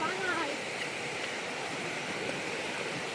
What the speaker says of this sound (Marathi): ही नदी आहे आणि नदीच्या पलीकडे आता आम्हाला जायचं आहे